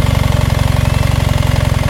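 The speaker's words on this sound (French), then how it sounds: "nous allons mettre en route le moteur" A BMW R1300GS motorcycle engine idles steadily up close, a fast even low-pitched pulse thrumming without a break.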